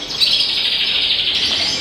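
A Yorkshire canary sings a bright, continuous high-pitched warbling trill for about two seconds, close and clear with no other sounds.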